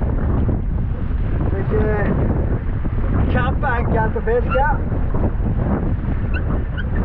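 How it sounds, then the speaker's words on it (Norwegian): Gale-force wind buffets a fishing boat at sea while trolling for pollock, a steady loud roar and microphone rumble throughout, with someone talking over it. "Nå blåser det greit kuling her."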